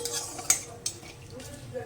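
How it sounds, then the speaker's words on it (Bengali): A spatula stirs cumin seeds and bay leaf frying in oil in a pan, giving a few soft scrapes and light clinks over a faint sizzle, close by and fairly quiet. "এবার জিরে ফোড়ন আর তেজপাতা আমি দিয়েছি তেলে, সেটাকে আমি একটু নাড়িয়ে নিই"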